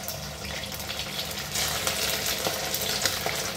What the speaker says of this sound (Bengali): ডিম থেকে তুলে চিকেনগুলোকে এবার ভেজে নেব